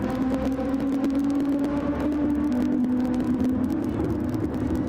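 Racing cars in a racing video game run along a straightaway, a steady engine drone with a sustained tonal whine and rumble, loud and continuous throughout with no talk.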